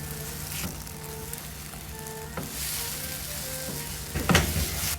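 Egg omelette frying in butter in a pan, a steady close sizzle with light stirring and utensil scrapes, rising into a brief louder burst near the end, with no talking.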